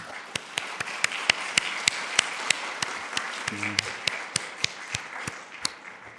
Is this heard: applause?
yes